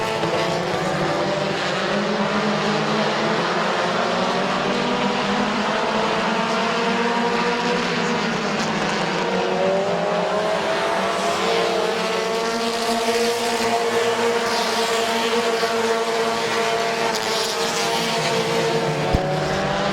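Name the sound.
race cars racing at Midvale Speedway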